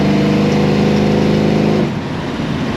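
A 1969 Dodge Charger 440 R/T restomod's V8 runs loud and close, a steady rumbling drone that drops to a softer, lower idle near the end, with no talking.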